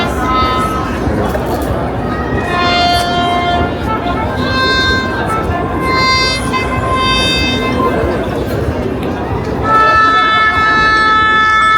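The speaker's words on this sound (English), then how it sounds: "And there are many police cars." Wailing police car sirens rise and fall over a loud, busy street in Rynek Główny square, Kraków, Poland, with several overlapping tones and people chatting nearby throughout.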